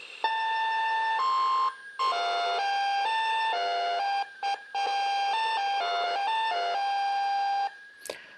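A simple electronic melody of pure, buzzy tones sent over an AM carrier, stepping between pitches, played steadily with brief gaps, loud and close.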